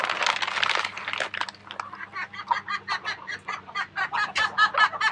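Chickens cluck in a coop on a farm, a flock of hens and a rooster calling in a busy, overlapping series of short clucks and squawks that grow more rhythmic and insistent, fairly close and clear with no talk.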